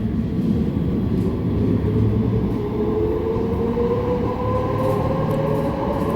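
A Manchester Metrolink tram runs just after leaving Failsworth toward Hollinwood, heard from inside: a loud steady rumble with a rising whine from the traction motors climbing in pitch as it accelerates, with no talk.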